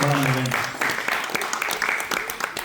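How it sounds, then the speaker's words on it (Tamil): Applause rises from the audience in a full hall at a 40th anniversary celebration of Tamil traditional arts and dance, a dense sustained clapping that follows a brief moment of someone speaking. "அரங்கு நிறைந்த மண்டபம் நிறைந்த கரகோஷம் வழங்க வேண்டும்"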